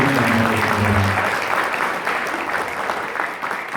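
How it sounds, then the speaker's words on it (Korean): Sustained audience applause fills a hall at the opening of the Korean Child Welfare Association's 70th anniversary ceremony, steady and dense throughout, with a brief voice or tone at the start before the clapping carries alone and slowly tapers. "이번 큰 박수로 축하드립니다."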